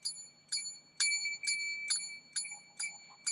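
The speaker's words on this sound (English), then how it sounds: "So when I ring the bell, what I just said has ended" A small hand bell rings bright and clear six or seven times in a steady, evenly spaced rhythm, each strike leaving a short shimmering ring at a quiet, close level.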